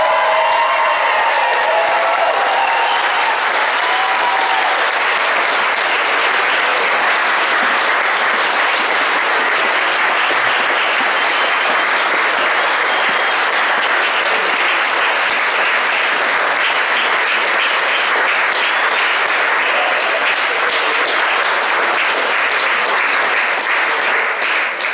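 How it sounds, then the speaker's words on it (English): Wedding reception guests give a sustained, loud round of applause for the bride and groom, with dense clapping from a large crowd continuing evenly throughout. "let's have a huge round of applause for the bride and groom"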